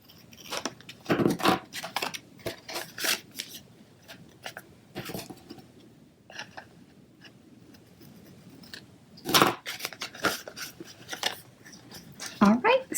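Scissors snipping through paper and cardstock while a handmade greeting card is assembled, close and crisp, with several short bursts of cutting separated by quiet pauses and soft handling noise.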